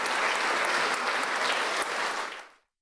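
Applause rolls through a sold-out hall after a lunchtime concert, dense and steady for over two seconds before cutting off abruptly. The clapping sounds moderately distant.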